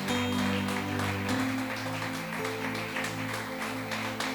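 A church congregation claps steadily over sustained musical tones during a sermon, the applause a dense broadband patter lasting throughout.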